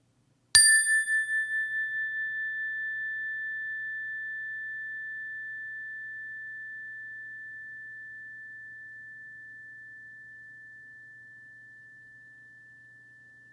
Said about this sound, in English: rest your attention in the pure sound of the bell. And as the sound of the bell fades away